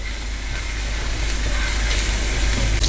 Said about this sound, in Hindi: और इसको हम गोल्डन ब्राउन होने तक फ्राई करते हैं इन द लोअर फ्लेम